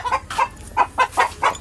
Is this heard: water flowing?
no